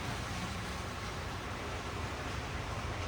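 A Lionel Union Pacific Flyer model train runs on a permanently mounted garden track, producing a steady, unbroken whirring rumble at moderate level with no talking.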